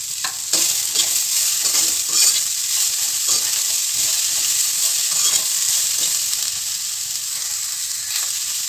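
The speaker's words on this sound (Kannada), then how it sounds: "ಇವಾಗ ಚೆನ್ನಾಗಿ ಫ್ರೈ ಆಗ್ತಾ ಇದೆ." Food frying in a home kitchen pan crackles with a loud, continuous sizzle, broken by repeated scraping strokes as it is stirred.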